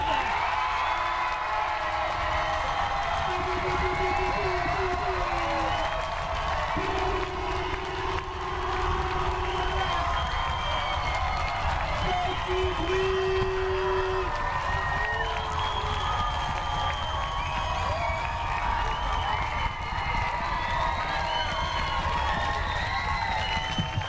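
An audience at a film premiere in a UGC cinema cheers and applauds loudly and continuously, with whistles and shouts rising above a dense wall of clapping.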